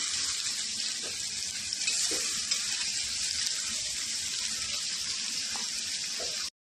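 Green chilies and bay leaf crackle in hot mustard oil, a bright, even hiss that runs steadily up close with a few soft pops, then cuts off sharply.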